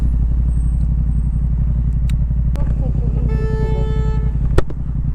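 A car horn honks several times from a vehicle a few cars back in a stop-and-go traffic jam, sounding over steady engine rumble and cabin road noise, with a voice talking nearby.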